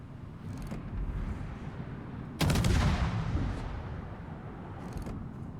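Naval gunfire from warships in an online naval battle game: a sharp, loud cannon blast midway that rolls off into a long rumble, with fainter distant shots before and after over a constant low background.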